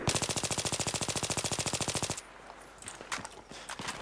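Sustained automatic fire from a machine gun in Battlefield 3, a loud, rapid, evenly spaced burst of about two seconds that cuts off abruptly, followed by softer scattered game noises.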